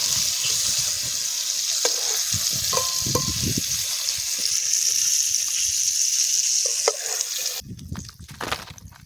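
Chicken pieces coated KFC-style sizzle and crackle in hot oil during frying, with a steady hiss broken by scraping and clinking, then quieter stirring and handling near the end.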